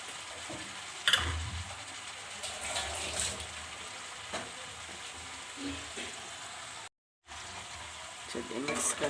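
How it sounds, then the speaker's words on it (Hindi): Fried potatoes and rinsed poha being stirred together in a hot pan, giving a steady low sizzle broken by spoon scrapes and a few sharper clinks, with a brief drop to near silence partway through. "चलिए मिक्स कर लेते इसको बढ़िया से।"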